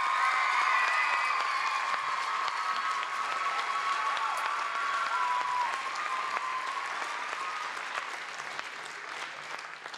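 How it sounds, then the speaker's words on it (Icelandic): An audience at a music contest applauds steadily, a sustained even roar of clapping with faint cheering that fades slightly toward the end. "klappið fyrir öllu dæminu bara 1, 2 og núna"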